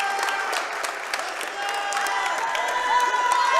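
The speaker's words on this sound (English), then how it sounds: "Listen to this Lancer crowd here" Home Lancer crowd in a high school basketball gym cheering and applauding steadily, a loud sustained roar with scattered whistles and shouts throughout.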